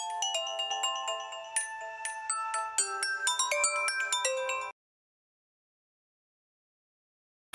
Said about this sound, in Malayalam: എത്ര നേരം നിന്റെ ഫോൺ അടിക്കുന്നു